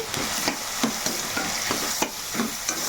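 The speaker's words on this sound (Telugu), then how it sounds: "లేత కరివేపాకు అయితే వేసుకుంటున్నాను నేను మనకి బాగా ఫ్రై అయిపోవాలి" Tender curry leaves fry in hot oil for a fish curry, a steady close sizzle with repeated scraping stirs at an irregular rhythm, no voices.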